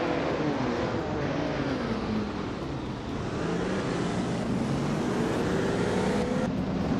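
A 1977 Porsche 936 race car engine roars in a racing video game, loud and close, with pitch sweeping down and then climbing back up as the car shifts and accelerates.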